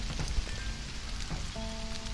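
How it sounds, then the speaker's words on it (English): Rain pours in the video game Stranded: Alien Dawn, a dense, steady patter of drops with a low rumble beneath and a faint sustained tone entering near the end. "Well, it's raining."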